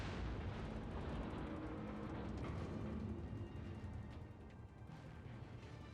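Naval gunfire firing high-explosive shells in World of Warships, a dense, loud rumble of booming salvos and explosions running without a break and easing slightly toward the end.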